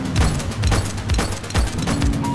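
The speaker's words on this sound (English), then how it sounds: "Gunshot! Evasive maneuvers!" Gunfire in the police video game The Precinct, a loud dense barrage of rapid booming shots over the game's constant roar, with no pauses across the short burst.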